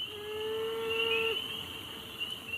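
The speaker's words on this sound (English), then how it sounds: "This is the sound of a male beaver mourning its lost family after their dam was destroyed." A male beaver whose dam was destroyed gives a single long, thin, whining cry that holds steady and then breaks off, faint against a quiet outdoor background with a high steady insect-like hum.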